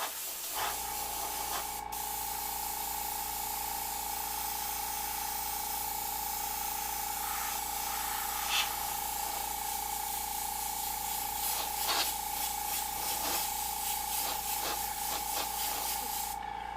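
An airbrush sprays paint in one long, steady, close hiss that runs unbroken throughout, with a constant hum underneath and a few faint clicks.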